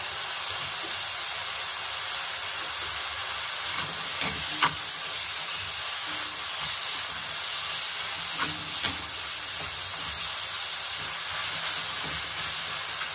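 Sliced mushrooms and green peas sautéing with softened onions in a pan, a steady close sizzle and hiss with a few sharper crackles and occasional stirring clicks, no voices.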